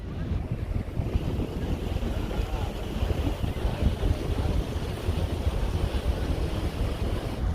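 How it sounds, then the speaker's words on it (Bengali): Boat travelling along a river in the Sundarbans, a continuous engine rumble mixed with water wash and wind buffeting the microphone, steady and fairly loud throughout. "আমরা এগিয়ে চলেছি বোটে করে আমাদের গদখালির উদ্দেশ্যে"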